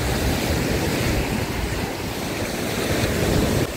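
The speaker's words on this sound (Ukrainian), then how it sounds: "Подивіться, які хвилі." Sea waves break on a beach in Odesa with a loud, continuous roar and rush of surf, mixed with gusty wind noise on the microphone.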